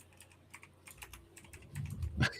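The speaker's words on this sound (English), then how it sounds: "Both hitting the keyboards." Quiet rapid tapping on computer keyboards, a run of light irregular clicks building to a few heavier keystrokes at the end.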